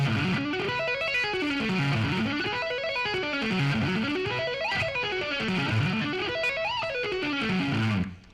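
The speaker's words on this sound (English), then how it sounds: "try doing some hammer-ons and pull-offs on the top half of the arpeggio" Electric guitar arpeggios in rock chops, with hammer-ons and pull-offs on the top half, sweeping smoothly up and down in repeated waves, steady and alone.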